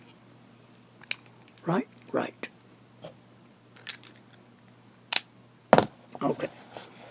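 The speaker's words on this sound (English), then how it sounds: "I better screw that back in." A Visconti Van Gogh fountain pen is screwed back together with small close clicks, twists and scrapes in scattered bursts, and a voice briefly speaks nearby.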